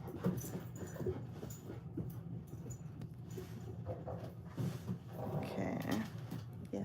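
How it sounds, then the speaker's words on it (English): A dog pants and shuffles close by in a room, steady breathy panting with small movement noises continuing throughout. "oh, I think I've got an extra dog visiting."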